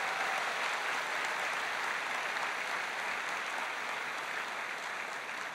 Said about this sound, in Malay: Berikan tepukan kepada kalian